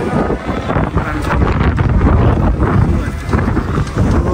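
Strong cold wind blows along the Teesta riverbank ahead of a storm, a loud, close, continuous roar buffeting the microphone, with a voice briefly speaking under it.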